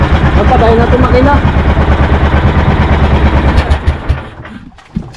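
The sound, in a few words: fishing boat engine running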